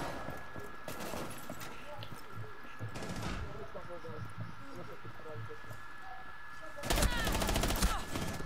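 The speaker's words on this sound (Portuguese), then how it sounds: "estou a levar tiro do outro lado" Video game gunfire in ranked Rainbow Six Siege. Bursts of rapid shots crackle in a few short clusters, with a heavy volley near the end, while players talk over the action.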